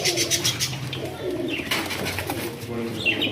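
Flying pigeons, including golden Sialkoti birds kept for sale, coo in low, soft, repeated throaty calls close by, with rustling and faint chirps from the flock around them and no talking.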